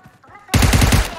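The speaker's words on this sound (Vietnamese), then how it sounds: "Bắn AK này" AK rifle in PUBG Mobile firing a loud, rapid automatic burst of about six evenly spaced booming shots that erupts suddenly after a brief quieter lead-in.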